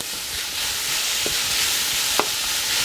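Garlic, onion and other vegetables stir-frying in an oiled pan, a steady close hissing sizzle with a couple of brief scraping stirs.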